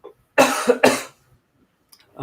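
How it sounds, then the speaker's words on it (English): Two loud, close coughs in quick succession, followed by quiet and a brief sound at the end. "I'm going to cough in all of everybody's ear."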